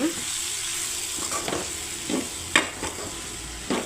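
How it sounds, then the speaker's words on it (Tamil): Cauliflower with salt is stirred in a hot frying pan for an egg fry, with a steady sizzle under repeated scraping strokes of a spoon against the pan. "உப்பு சேர்த்து நல்லா கிண்டி விட்டுக்கோங்க"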